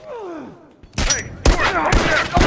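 Gunfire in The Last of Us multiplayer: a few sharp, loud shots land at irregular intervals after a quieter start with a falling groan-like tone, each burst ringing briefly.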